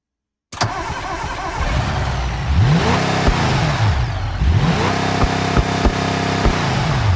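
After a moment of silence, a car engine cranks and catches, then settles into a loud, close idle with a few brief revs.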